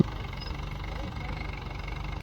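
A tractor engine idles and runs steadily at close range through the whole stretch, a low continuous rumble with a faint knocking pulse, as a farm tractor is readied for a first-time driver.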